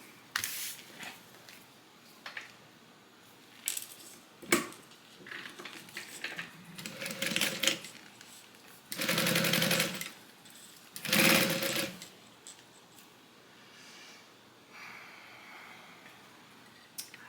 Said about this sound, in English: let's go ahead and sew this one down